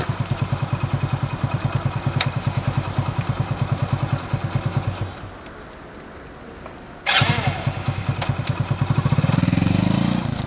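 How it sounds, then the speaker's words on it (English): A Hero Honda Splendor motorcycle engine idles with a steady rapid putter, cuts out for about two seconds, then restarts on the starter motor with a sharp catch and keeps running. "the starter motor brings the engine back to life"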